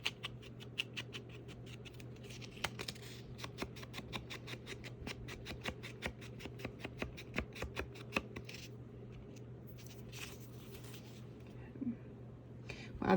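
Paper pieces for a fall journal notepad element being re-inked, giving a steady run of close, soft rhythmic dabbing and tapping strokes over a low constant hum, with occasional rustles of paper.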